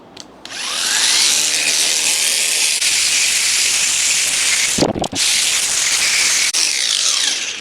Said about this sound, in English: Now I'll show you the wire wheel on that.